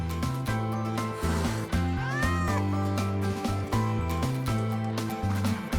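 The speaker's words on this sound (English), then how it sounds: "It doesn't seem to be a cat registered with the academy." A cat in the Wuthering Waves video game gives a short meow partway through, set against steady game music that stays louder than the cry throughout.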